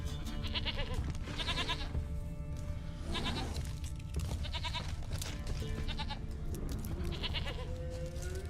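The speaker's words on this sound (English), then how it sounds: "Here, goat." Goat bleating in The Witcher 3, several drawn-out wavering bleats repeated at intervals over low ambient game music and background rumble.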